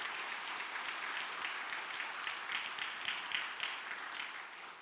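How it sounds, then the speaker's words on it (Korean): A church congregation applauds for its elders during an evening revival service, steady dense clapping filling the room for several seconds at moderate distance, with no voices standing out. "여러분 장로님들 위해서 박수 한번 해주셔요."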